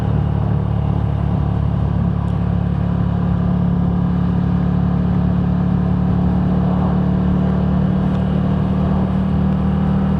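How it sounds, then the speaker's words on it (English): A Volkswagen car fitted with an aftermarket exhaust drives ahead on a highway, giving a steady, loud low engine drone with road noise throughout and no voices. "a Volkswagen in front of him with aftermarket exhaust"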